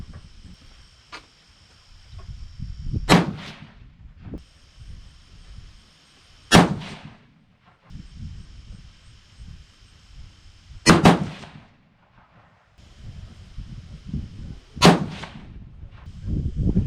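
Four sharp, loud 6.5 PRC rifle shots loaded with Retumbo powder and Hornady 153gr A-Tip bullets, spaced several seconds apart, each a hard crack with a short ringing tail over a quiet outdoor background with faint insect hum.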